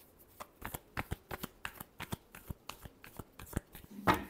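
Tarot cards are shuffled by hand in a quick series of crisp riffling flicks, about a dozen evenly spaced snaps ending in a slightly louder final shuffle, close and quiet with no speech.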